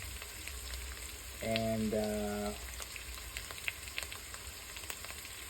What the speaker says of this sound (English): And we're gonna let that simmer a little bit.